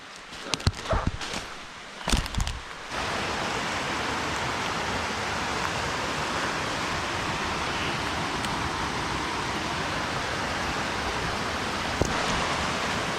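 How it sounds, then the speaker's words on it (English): A forest brook in the Adirondacks, New York, flows in a steady, even rush of water after a few seconds of footsteps and rustling at the start. "And you could hear the brook"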